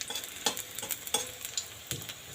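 Onion ring pakoras fry in hot oil, giving a quiet sizzle with soft stirring clicks and scrapes of a spoon at irregular intervals, no voices.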